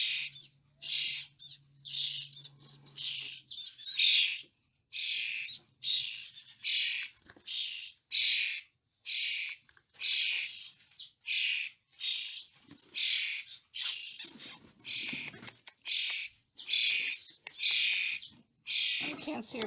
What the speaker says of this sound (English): Here are a couple of chickadees.